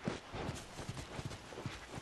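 In The Last of Us, horse hooves clip-clop in a steady, unhurried walking rhythm. The hoofbeats are faint and sit under a low ambient wash.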